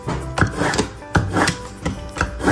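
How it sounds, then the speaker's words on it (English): Kitchen knife being sharpened for burger prep, several short scraping strokes at an uneven rhythm, close and moderately loud with soft rubbing noises between them. "We're going to start by sharpening the knife."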